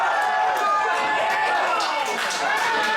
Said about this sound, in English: And the crowd roars its approval.